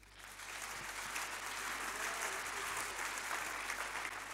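A church congregation applauds continuously, a dense wash of many hands clapping that holds steady throughout without voices standing out.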